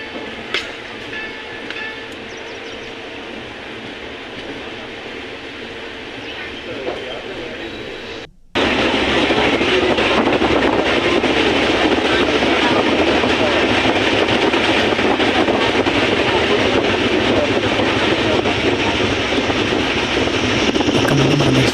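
Train pulling out of Kamareddy station on a Vijayawada to Nizamabad run. A quieter stretch gives way to a loud, steady broadband rumble of wheels and carriages rolling, heard from on board.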